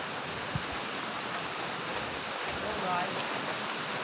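Steady rain falls outdoors, a soft, even hiss of drops on surfaces that stays constant and fairly faint throughout, with no distinct pauses.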